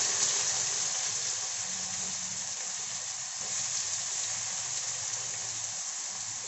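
Sliced onions hit hot oil that has already been seasoned with cumin, at the start of a hilsa fish curry. They give a steady, close, even sizzle with a soft hiss and no talking over it.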